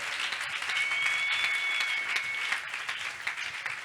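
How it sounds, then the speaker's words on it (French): A church congregation claps and cheers, a dense, steady wash of applause filling the room at moderate volume with a whistle rising above it. "Acclamez pour le Seigneur."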